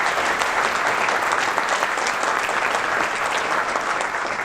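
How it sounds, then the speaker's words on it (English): A conference audience at a supply chain summit claps for the panelists, a dense, even wash of applause holding steady and loud throughout, with no distinct voices over it. "A big round of applause to our panelists here."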